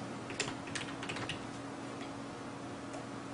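Keys tap on a computer keyboard in a short burst of light, close clicks over a steady hum, then trail off into a few faint taps.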